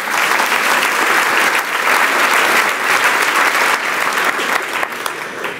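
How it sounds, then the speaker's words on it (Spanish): Church congregation applauding during a Spanish-language worship service, loud sustained clapping from a large crowd that holds steady throughout, with no talking over it. "Le das un aplauso a Dios por su presencia en este lugar."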